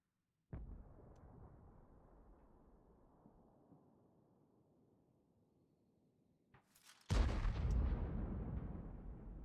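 Incoming gunshot in a video game, heard as a faint distant boom that decays slowly, then a loud sharp crack and rumbling burst near the end, with no talking.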